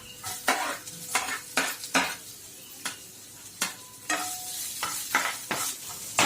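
Onions tossed into a pan with sweating ginger and garlic, stirred with repeated scraping strokes and clinks of utensil on metal over a soft sizzle, close and rhythmic.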